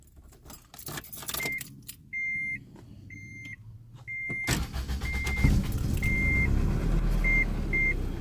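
Honda Integra engine being cranked after fresh spark plugs and distributor work, with keys jangling and repeated seatbelt warning beeps first, then the engine catching and running rough and misfiring while the chime keeps sounding.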